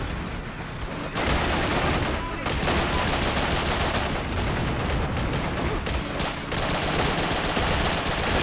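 Dense battlefield gunfire in the video game Men of War Assault Squad 2 as units fire on a tank, with sustained machine-gun bursts and booming impacts filling the whole stretch.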